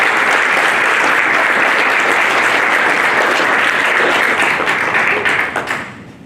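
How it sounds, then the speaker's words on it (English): Audience applauding the Cal State San Bernardino team as it stands at an introductions session, loud, dense clapping from a large crowd that keeps up strongly before thinning out at the very end. "go ahead and stand up, because we'd love to give you a round of applause"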